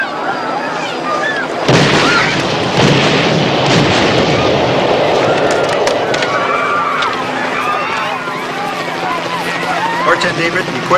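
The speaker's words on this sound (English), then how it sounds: "There are explosions." Explosions erupting in a chaotic emergency scene, a sudden loud blast followed by sustained heavy rumbling and crackling, dense and close, mixed with shouting voices and commotion.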